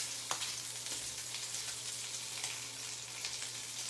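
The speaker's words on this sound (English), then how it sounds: "The sound of the sizzle." Bacon sizzles in a frying pan, a steady crackling hiss with occasional louder pops, fairly quiet and close.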